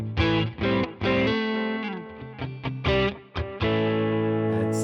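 An electric guitar through a Neural DSP Tone King amp plugin, set to a crunchy, mid-forward tone, playing a run of bright, sustained notes and chords with short gaps between phrases.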